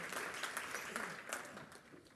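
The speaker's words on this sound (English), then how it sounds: "Round of applause for JB." A presentation audience gives a faint round of clapping for a presenter returning to their seat, a soft continuous patter that gradually fades toward the end.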